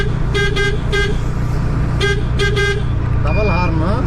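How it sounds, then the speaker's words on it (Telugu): Repeated horn toots from a TVS auto-rickshaw fitted with an added double horn, several short bursts in two clusters over steady engine rumble, then a warbling horn tone near the end; a voice talks over it. "హార్న్ చూడండి, హార్న్ వినిపిస్తా అని చెప్పా కదా"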